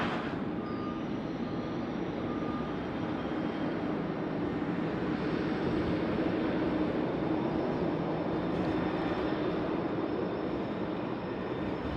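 A Qantas heavy jet departing runway 16 right at Sydney Airport on a foggy night, a steady broadband engine roar that stays loud and continuous throughout, with no talk.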